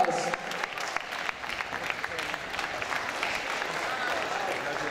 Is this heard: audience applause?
yes